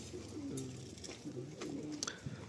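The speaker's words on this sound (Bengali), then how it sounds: "দাদার ঘরে অজস্র পায়রা" Pigeons of a high-flying breed coo softly indoors in a loft, repeated low rolling calls overlapping at close range, faint and without speech.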